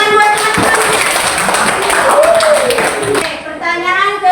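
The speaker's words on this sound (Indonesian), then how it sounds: "tepuk tangan buat teman-teman" A group of children clapping together, a lively burst of applause with voices chattering underneath.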